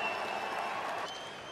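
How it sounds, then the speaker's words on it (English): Crowd applause at a rugby league ANZAC Test presentation for the New Zealand Kiwis, a brief, dense wash of clapping from a large audience, steady and moderately loud throughout. "That deserves a round of applause tonight for Simon Mannering and his team."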